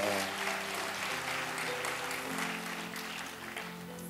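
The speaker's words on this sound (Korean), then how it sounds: "박수하겠습니다." A church congregation claps after a prayer of blessing for a child at a Sunday service, a soft wash of applause over sustained, tonal music that fades slightly toward the end.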